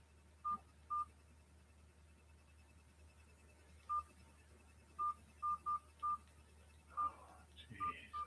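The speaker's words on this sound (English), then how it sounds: "God, why does my phone keep beeping, man?" Phone beeping repeatedly in short, evenly pitched tones, about ten beeps spaced irregularly across the stretch, fairly faint over a quiet background with no talking.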